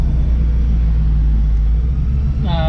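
A 1967 Ford Mustang engine while driving, a loud, deep, continuous rumble from inside the car that holds steady, with a brief higher whine at the very end.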